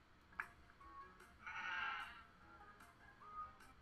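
Sheep bleat in a children's video game, a short soft bleat rising briefly among faint clicks and small game tones, quiet overall.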